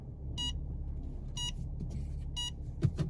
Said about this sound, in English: you see, immediately beep, because there is an obstacle there